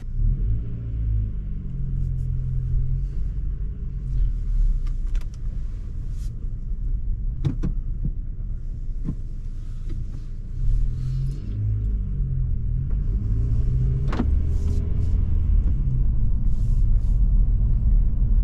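A 2025 Honda Civic Si cruising on country backroads, its engine and road noise a steady low rumble from inside the cabin, with a few faint clicks and knocks over the drone and no talking.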